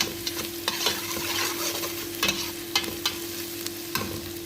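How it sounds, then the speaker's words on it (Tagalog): Onion, garlic and ginger fry in a pan while being stirred, giving a steady sizzle under a low constant hum, with quick scraping and tapping strokes of the spoon in an uneven rhythm, close up. "Purpose ng paghalo-halo guys, para hindi masunog yung ano ng sibuyas, yung bawang at luya."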